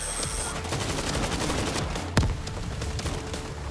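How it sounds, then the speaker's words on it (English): An automatic turret fires in a video game, a dense sustained burst of rapid gunfire that runs throughout, punctuated by a sharper impact midway. "Auto turret is set."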